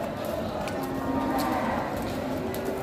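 A water buffalo (carabao) moos at a busy livestock market in Padre Garcia, Batangas, its low call rising above a steady crowd murmur and market bustle for a few seconds.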